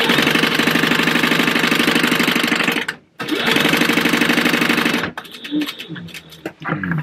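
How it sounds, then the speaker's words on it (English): A sewing machine top stitches a seam on a Howler-style purse card-slot piece, running loud and steady up close, pausing briefly, running again, then stopping and leaving quieter handling sounds. "I'm just going to go ahead and top stitch it."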